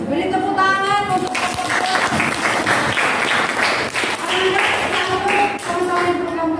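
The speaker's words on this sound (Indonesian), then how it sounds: "Beri tepuk tangan untuk" A classroom group claps after a chemistry practical demonstration on freezing point, a few seconds of brisk clapping at close range with a voice speaking over the start.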